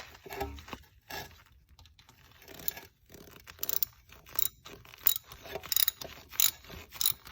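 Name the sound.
ratchet tightening header studs on BMW E46 M3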